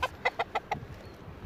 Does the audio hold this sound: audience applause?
no